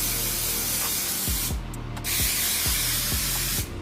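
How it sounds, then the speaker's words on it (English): Hair holding spray hisses steadily onto a half wig in a series of close, loud bursts, with brief pauses and soft rhythmic thumps from the can being pumped between sprays. "So I'm gonna spray it with some holding spray a little bit more."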